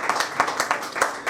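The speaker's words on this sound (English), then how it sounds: "Give yourselves a round of applause for being in here, man." A comedy club audience at a John Gibson stand-up set claps steadily in a brief, moderately close round of applause that rises and falls in loose rhythm.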